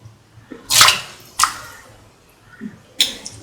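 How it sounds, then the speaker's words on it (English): Soaked, washed rice is dropped into a pot of water for cooking, producing a few distinct splashy pours and rattles, each a short burst separated by quiet pauses. "Now put in the soaked and washed rice"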